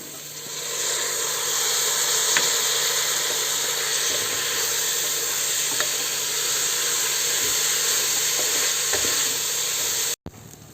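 Soaked basmati rice stirred and frying in a pan for prawn biryani, a steady close sizzle and hiss with occasional soft scrapes of stirring throughout, cutting off abruptly near the end.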